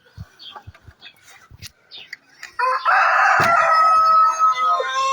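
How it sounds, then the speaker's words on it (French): A Brahma rooster gives one loud, drawn-out crow close by after several short clucks and scattered chicken noises in a farmyard. "Vous voyez mon monde là, c'est les poulets Brahma là."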